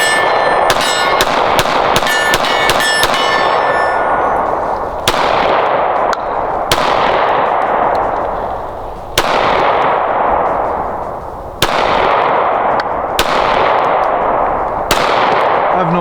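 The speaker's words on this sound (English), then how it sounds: "I have no idea where those shots were going." Pistol shots from a Smith & Wesson or Sig Sauer handgun at a range, a rapid string of loud ringing cracks followed by single spaced shots, each with a long echoing decay.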